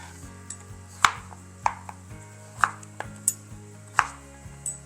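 A kitchen knife chops potatoes into small cubes for Zuppa Toscana soup: about ten sharp, close thuds on a cutting board at an uneven rhythm, with no talking.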